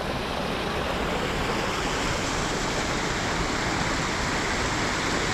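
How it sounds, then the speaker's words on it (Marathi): A mountain stream along the Kedarnath trek rushes in a steady, broad wash of flowing water that is loud and continuous throughout, close by, with no voices. "बघा मस्तपैकी झरा वाहते"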